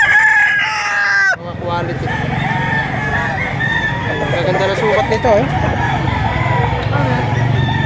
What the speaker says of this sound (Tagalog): Napakarami pang manok dito.